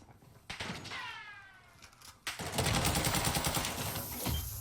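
Bursts of automatic gunfire from AI enemies in Warzone 2 crackle at mid distance, a short volley early on, then a longer, louder rapid fusillade.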